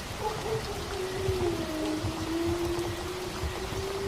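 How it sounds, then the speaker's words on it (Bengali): Heavy rain falls in a stormy downpour as a dense, steady hiss, with a faint gliding tone running through it and no voices. "জোরে জোরে মেঘ ডাকছে, আর ঝড়ে মনে হচ্ছে আমাকে উড়িয়ে নিয়ে যাবে।"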